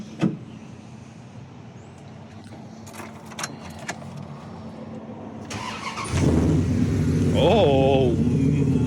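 Dodge 360 Magnum truck fitted with a new eBay catback exhaust cranks and fires up partway through, settling into a loud, deep steady idle rumble up close after quieter shuffling and clicks beforehand.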